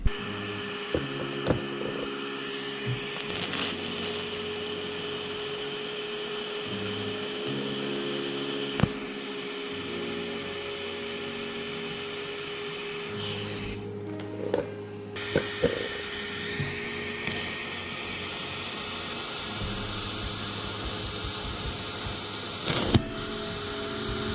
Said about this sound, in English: I just got the sander out and sanded everything smooth, so afterwards it's easier to paint.